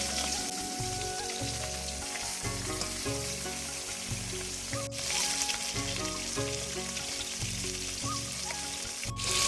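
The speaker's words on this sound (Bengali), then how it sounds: "গরম তেলে এখন মাছগুলো একে একে দিয়ে দেব।" Fish slices frying one by one in hot oil in a kadai: a steady, dense sizzle throughout, with background music playing alongside.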